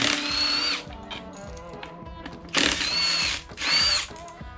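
A power drill drives screws on a 21-inch motorcycle tire-spine install in a few loud close bursts of whirring, separated by quieter pauses with small mechanical clicks.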